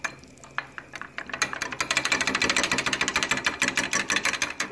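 Quick, steady stirring of a Turkish rice pudding (sütlaç) mixture in a pot, with fast rhythmic scraping and clinking of the spoon that speeds up and stays close and clear, with no talking.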